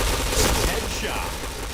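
Dense, continuous gunfire from the online shooter Point Blank, a loud, unbroken rattle of rapid shots that fills the whole stretch, with a voice briefly mixed in.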